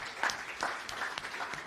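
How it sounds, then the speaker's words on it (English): Faint, sparse applause from a small audience in a co-working space, a handful of claps trailing off over a couple of seconds. "Another round of applause for Michael."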